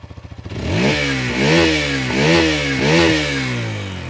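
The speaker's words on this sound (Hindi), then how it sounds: "ये है इंजन का साउंड" A 2023 Hero Xtreme 160R 4V motorcycle with a four-valve engine and new silencer putters at idle, then revs up sharply three times, each rise and fall loud and close.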